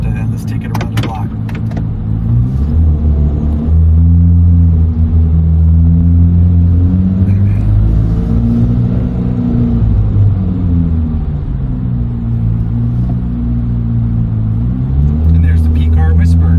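A 2023 Chevrolet Corvette C8 Z06 with the 3LZ package drives around the block, its engine rumbling steadily and rising and falling in pitch as it accelerates and eases off, with someone talking over it at the start.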